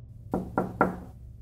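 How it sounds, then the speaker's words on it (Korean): Three evenly spaced knocks on a wooden door, firm and resonant, heard up close in quick succession with nothing else around them. "그날 아침 8시경 집안에서 일하던 가정부는 갑작스러운 문 두드림 소리에 응답했습니다"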